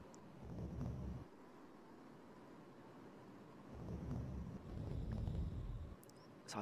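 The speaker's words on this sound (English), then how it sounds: "Like a thunderstorm going outside." Thunderstorm sound effect from an Amiga game in the Delphine Software collection, heard as two swells of deep rumbling thunder over a steady low wash of rain, with no talk over it.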